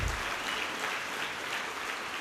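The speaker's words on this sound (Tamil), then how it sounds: "நல்ல கைத்தட்டுங்க எல்லாருக்குமே." An academy audience claps to welcome families, a soft, even wash of applause sounding distant and steady, without spoken voices.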